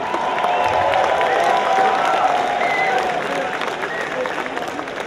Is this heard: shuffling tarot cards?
no